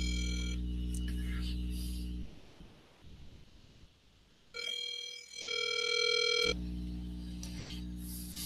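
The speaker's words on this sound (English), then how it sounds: "Ringing, ringing, ringing. Just ringing." An outgoing telephone call rings back through a handset in repeated long tones separated by brief gaps, with faint rustling and room noise between the rings.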